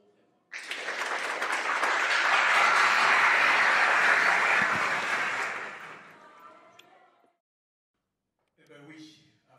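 Applause breaks out at an outdoor wedding celebration in Gabon, swelling to a dense, sustained burst of clapping for several seconds before fading away, followed by a brief murmur of voices.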